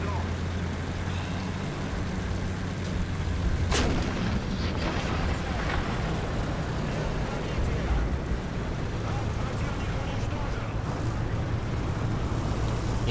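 Artillery fire in a tank video game: one sharp, loud blast early on, followed by rumbling impacts and a low engine drone, with people talking over it.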